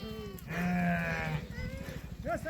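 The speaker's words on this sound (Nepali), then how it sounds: "भेडाहरू पाल्छन् यहाँ।" A sheep in a Himalayan pasture at Dhaulagiri lets out a single drawn-out bleat, fairly close, followed by a short second call, over faint background noise.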